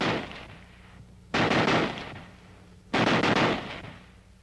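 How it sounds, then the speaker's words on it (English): A Browning Automatic Rifle M1918A2 fires at its full automatic rate: two loud, rapid bursts of about a second and a half each, separated by a short pause. "if you flick this change lever, you can fire at the full automatic rate"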